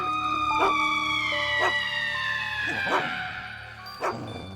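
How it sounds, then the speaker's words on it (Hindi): Several dogs bark in short bursts, about four sharp barks spaced apart, while a steady siren-like tone wails underneath. "मुझे उनका भौंकना अच्छा नहीं लग रहा है।"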